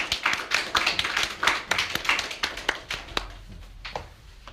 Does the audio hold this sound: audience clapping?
yes